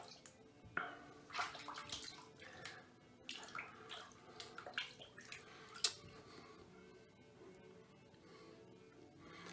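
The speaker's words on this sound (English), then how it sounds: "Let me rinse off one more time," Water splashes and runs as a face is rinsed during a wet shave, a quiet, continuous patter of small splashes and drips with no talk.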